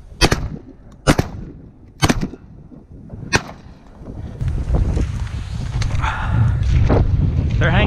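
Shotgun blasts during a windy goose and duck hunt on sheet water: four loud, sharp shots spaced about a second apart, followed by heavy wind buffeting the microphone and faint distant bird calls.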